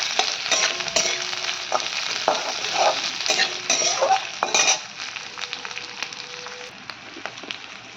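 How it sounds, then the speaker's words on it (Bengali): Onion stirred in a hot pan for chilli chicken gravy, a steady loud sizzle with repeated scraping and clinking strokes of a utensil against the pan. "এবার দিয়ে দেবো পেঁয়াজটা। এটা একটু নেড়ে চেড়ে নেবো হালকা।"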